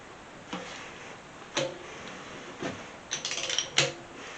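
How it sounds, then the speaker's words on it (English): Car engine being turned over by hand during assembly, its rocker arms moving: a few sparse mechanical clicks and ratchet-like clacks, then a quick cluster of clicks near the end, moderately close with no talk. "Okay, I'm going to rotate the engine over."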